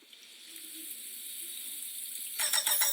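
Water pouring from a black watering can onto flowers in a cartoonish life-sim game, a steady soft hiss running throughout, with brief bright splashy bursts near the end.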